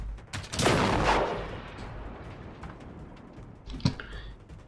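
Enemy gunfire in Generation Zero: a loud burst of rapid shots up front that fades into a lingering rumble, then a single sharp crack near the end, with no talking over it.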